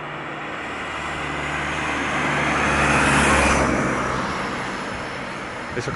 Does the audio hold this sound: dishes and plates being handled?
no